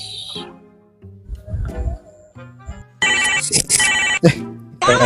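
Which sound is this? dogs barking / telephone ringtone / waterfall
telephone ringtone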